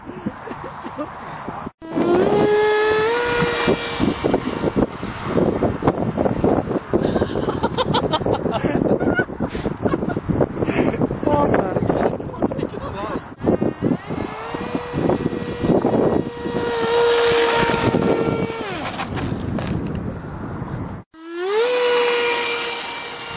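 Strong wind buffets an outdoor microphone nonstop at an RC fighter plane flying session, a loud broadband roar with rising motor whines cutting through and a brief gap of near silence before the gusting resumes.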